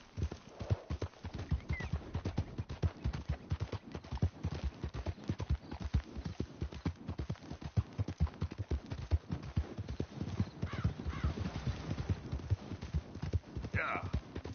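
Horse hooves clip-clopping in Red Dead Redemption 2, a rapid, even run of close hoofbeats that continues throughout, with faint voices briefly underneath.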